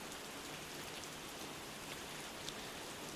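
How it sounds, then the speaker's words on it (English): Rain falling on trees in a soft, steady, even hiss of drops on leaves, faint and unbroken with no voices. "Where the rain hits the trees, and the leaves flutter in the wind."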